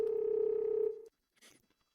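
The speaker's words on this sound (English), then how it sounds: "why did the phone ring after I hung it up?" A phone rings in Firework, a 2D Chinese horror mystery puzzle game set in a remote mountain village. A steady electronic tone holds for about a second, then cuts off, leaving a faint rustle afterward.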